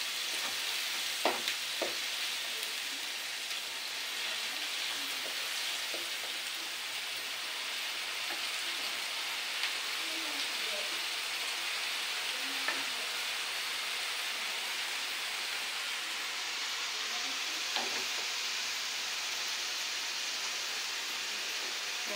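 Food frying in a pan for a Bengali home recipe, browning until reddish, gives a steady soft sizzle throughout with a few faint clicks and stirs, no voices.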